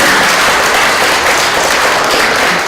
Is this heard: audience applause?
yes